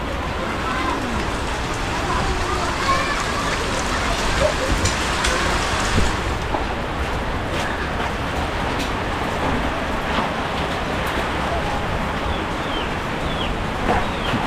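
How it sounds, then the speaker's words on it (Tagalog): Heavy typhoon rain pours steadily in a broad, constant hiss, with faint distant rumbles beneath it. "Ulan"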